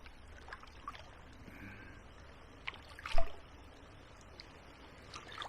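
A canoe being paddled on the River Medway with the engine cut, giving soft water trickles and dips near at hand, a few knocks, and a louder splash partway through over quiet outdoor ambience.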